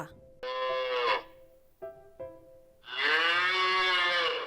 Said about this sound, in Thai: 8. เสียงวัว